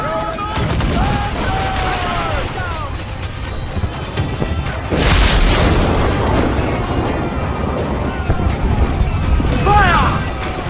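Ship cannons fire broadsides in the Assassin's Creed Black Flag video game: a dense run of booming blasts over constant sea battle noise. A heavier volley swells midway and again near the end, while crew shout orders throughout.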